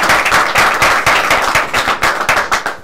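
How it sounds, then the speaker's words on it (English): A room at the Friends of Africa vs Friends of Caribbean press conference breaks into a short, dense round of applause for two players, loud and close, with many hands clapping steadily throughout. "Round of applause for the two players."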